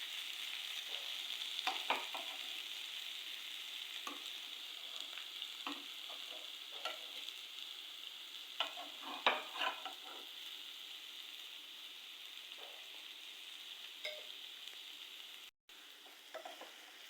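Food fries in a pan over medium-low heat while being stirred, a faint steady sizzle broken by scattered scraping and stirring clicks, with no talk.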